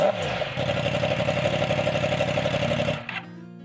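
A 2015-onwards Yamaha R1 motorcycle with no rear silencer, decatted, revs loudly and raw at close range, holding a rough, crackling high-rpm note before cutting off abruptly near the end.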